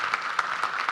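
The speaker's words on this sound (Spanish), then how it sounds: "Si se vale aplaudir." An audience at a 2018 congress panel applauds with steady, dense clapping throughout the short moment, fairly close and loud.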